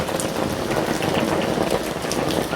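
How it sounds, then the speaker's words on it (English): Heavy rain pours steadily onto a street in Valencia, a dense, continuous hiss of drops hitting the pavement close by, with no talk. "Just to show you how heavy the rain is right now."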